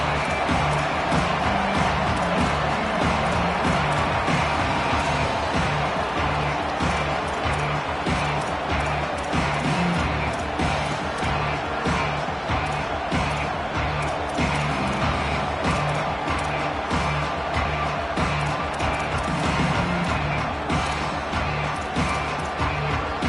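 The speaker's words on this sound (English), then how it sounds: "This crowd ready to make its presence known." A packed stadium crowd at a Fighting Irish college football game roars in a dense, continuous wash of cheering that stays loud and unbroken throughout.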